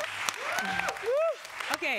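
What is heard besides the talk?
round of applause from audience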